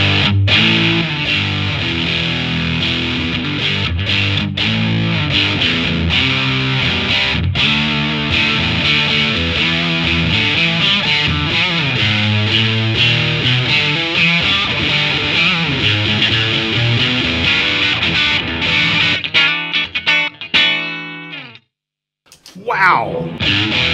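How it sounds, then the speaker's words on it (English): Loud, sustained electric guitar through an Ammoon Pockmon overdrive pedal, playing chords and riffs with a gritty overdriven tone, dropping out briefly near the end before resuming. "I just want to see if I can stack the overdrive"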